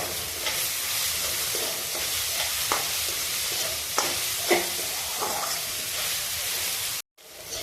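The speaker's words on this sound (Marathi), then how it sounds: "आता पुन्हा तेलामध्ये हा कांदा चांगला परतवून घेतो।" Chopped onion sautéing in a few spoonfuls of hot oil for a dried-fish chutney, a steady close sizzle with repeated stirring scrapes and clicks, cutting off briefly near the end.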